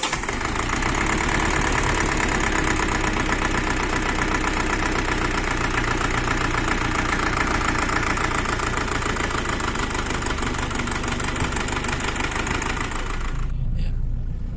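A warmed-up Isuzu Panther diesel engine with an oil leak runs loudly and steadily nearby with a rough, knocking clatter, then cuts off abruptly just before the end.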